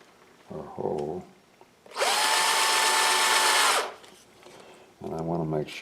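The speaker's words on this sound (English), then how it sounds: "So I'm going to drill" A power drill bores a hole in a single steady whine of about two seconds, loud and close, with short stretches of someone talking before and after.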